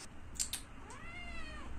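A house cat lets out one long, drawn-out meow that rises and then falls, fairly faint and indoors, after a couple of brief clicks, with no talking over it.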